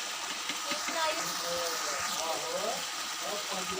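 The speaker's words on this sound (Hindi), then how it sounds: "तो इसमें हम पानी डालेंगे।" Water poured into a cooking pot of chicken aloo shorba, a continuous splashing gush with bubbling and sizzling as it hits the hot pan.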